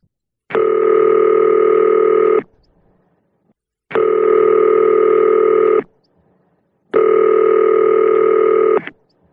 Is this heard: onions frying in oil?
no